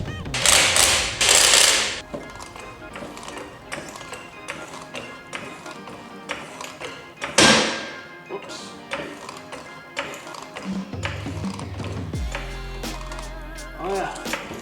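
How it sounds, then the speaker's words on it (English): Work on a Lexus LS400 as its wheel goes back on: close metallic clanks, ratcheting and tapping in irregular bursts, with a loud rattling pass early on and a low mechanical hum near the end. "we'll put the wheel back on and see what it looks like"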